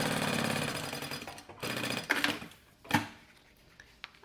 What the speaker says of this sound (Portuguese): Vou fazer a costurinha bem na beiradinha.